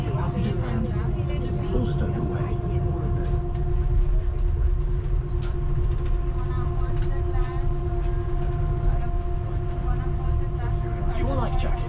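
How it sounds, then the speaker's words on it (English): A Swiss Airbus A340 taxis toward the runway, with a steady low rumble and engine whine heard from inside the cabin as a voice talks over it throughout. "We push out of the gate a few minutes late and taxi towards the runway."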